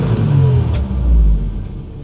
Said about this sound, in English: She revved up really high, guys.